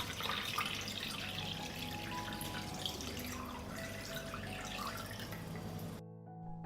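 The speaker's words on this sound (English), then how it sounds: "I pour water into the pan," Water pours steadily into a canning pot lined with a cloth and holding glass jars, a continuous close splashing and trickling that runs evenly for about six seconds, then stops abruptly, leaving a quiet room.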